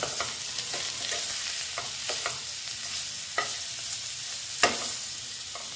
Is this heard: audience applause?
no